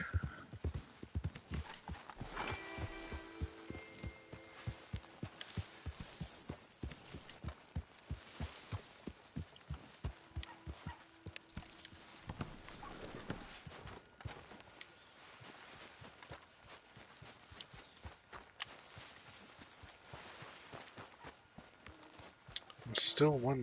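Horse hooves from riding in the video game Red Dead Redemption 2, a quick regular clip-clop that runs steadily, then fades and thins out later on, with occasional faint tones and sounds beneath it.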